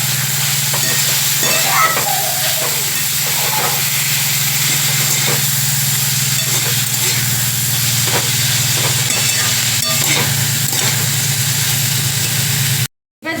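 Cauliflower stalks with turmeric fry in a pan with a steady loud sizzle and a low constant hum, stirred now and then, with no talk until a short cut near the end.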